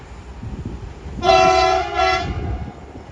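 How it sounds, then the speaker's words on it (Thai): A loud, blaring horn from a Thai railway track-maintenance locomotive sounds about a second in, holds, breaks briefly, then sounds again over the low rumble of the engine. "เสียงวีดสนั่นเลยครับ"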